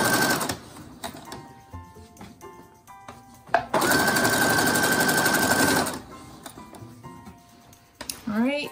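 A sewing machine stitching pillow fabric runs in short bursts and one longer steady whirring run, close up, with a person talking between the bursts and some handling of cloth.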